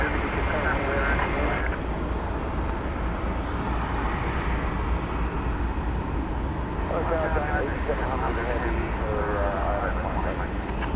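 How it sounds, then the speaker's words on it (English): A big four-engined aircraft at DFW Airport gives a loud, steady engine roar that swells and lingers throughout, heard from a distance with a faint broadband rumble and no clear voices. "where we expect momentarily to see the big 4-engined aircraft"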